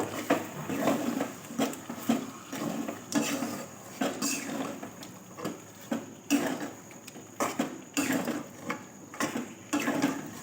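Chicken cooking with cashew and poppy-seed paste and a splash of water in a pan, a spatula scraping and tapping the metal in an irregular, busy rhythm over a soft simmer.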